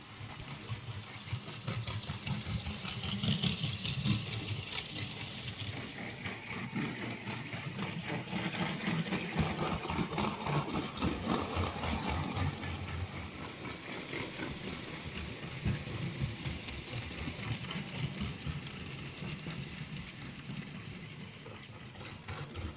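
A kit-built NuCast NER T model locomotive (LNER Q5/6) runs with a noisy motor and gearbox, giving a steady whirring, buzzing drone with a fast mechanical flutter that stays fairly loud and constant, close by, throughout.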